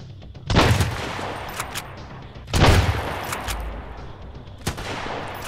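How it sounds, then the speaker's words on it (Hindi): Shotgun blasts in the survival shooter Sunken Land during a gas station island raid: three loud, sharp reports spaced about two seconds apart, each with a short echoing tail, with no talk. "उतने दूर से शॉर्टगन मार रहा भाई"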